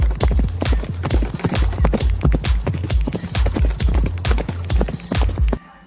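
Horse hooves clip-clopping in a steady, fast rhythm, loud and close, a continuous run of hard knocks that stops abruptly at the end.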